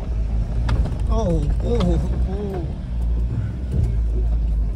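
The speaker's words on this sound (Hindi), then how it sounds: "चढ़ी भाई चढ़ी, बहुत ताकत है भाई गाड़ी में बहुत।" A car engine labors hard up a steep, rough mountain track, a steady low strained drone running throughout while excited voices shout over it.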